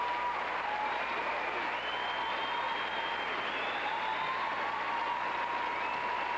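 A figure skating arena crowd applauds during the original dance at the 1999 Four Continents Championships, giving a steady, distant wash of clapping with faint tonal music running underneath.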